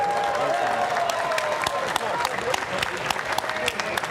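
Crowd applause and cheering at a bare-knuckle fighting event at Hard Rock Live, Seminole Hard Rock Hotel and Casino in Hollywood, a dense steady wash of clapping lasting the full stretch with a whistle or shout rising over it.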